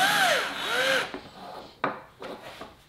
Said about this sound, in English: I also cut out a disc of 1/8 inch aluminum to try as a more robust and closed down throat